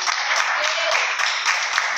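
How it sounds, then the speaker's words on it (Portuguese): A church congregation at a Sunday family service claps for the Lord, a brief, dense burst of hand clapping with voices mixed in. "Mais uma vez as palmas para o Senhor"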